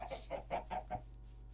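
Chickens in Minecraft clucking in a quick run of five short, close calls, then falling silent, with no talk over them.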